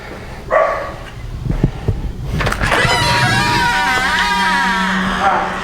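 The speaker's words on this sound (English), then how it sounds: "My dogs are very vicious and like to bark at everything that goes on." Dogs bark loudly and excitedly close by, the barking rising into continuous frantic yelping, with some background noise at the start.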